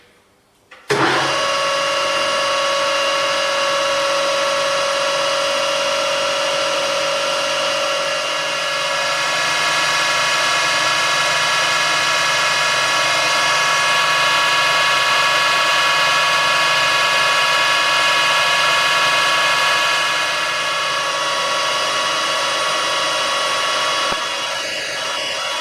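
A metal lathe starts up and runs steadily on automatic feed, taking a thin finishing cut, with a loud continuous mechanical whine and hum that holds for over twenty seconds before cutting off.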